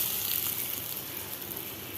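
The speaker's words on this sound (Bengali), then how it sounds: "আমি এক এক করে সব ভেজে ফেলবো।" Food frying in hot oil, giving a steady, close hissing sizzle with faint crackles that stays even throughout and has no voices over it.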